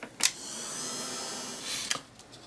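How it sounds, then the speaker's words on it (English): A steady, airy blowing hiss runs for about two seconds, bracketed by sharp clicks as a heat gun switches on and off, used on embossed Christmas card bells. "give it a quick blast with the heat gun."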